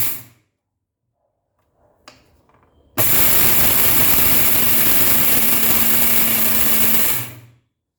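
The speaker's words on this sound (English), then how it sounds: "So let's now grind this to fine powder." Electric spice grinder whirs at high speed as ingredients are ground to a fine powder, starting abruptly after a few faint clicks and running loud and steady for about four seconds before cutting off.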